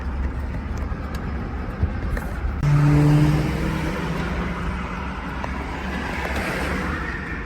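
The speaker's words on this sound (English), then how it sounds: "Oh, it's knocking real bad." A 5.3L V8 GMC Yukon XL with a knocking rod drives along with about 150 on the clock, its engine a steady, loud rumble with road noise throughout and a brief swell partway through.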